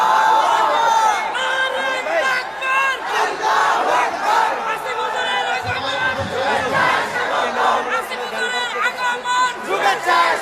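A large crowd of young men at an Islamic religious gathering chants the takbir in loud, repeated unison shouts that swell and fade, with a lead voice calling out among them.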